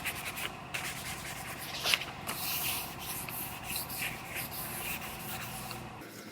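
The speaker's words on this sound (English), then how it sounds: "You put your sandpaper on a scuff pad, it sticks to it, and then you could get up in here" Hook-it sandpaper on a scuff pad rubbed over a surface during paint prep, a steady close scratchy hiss with rhythmic back-and-forth strokes, fairly quiet and continuous.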